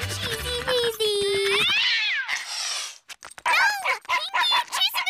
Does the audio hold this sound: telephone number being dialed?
no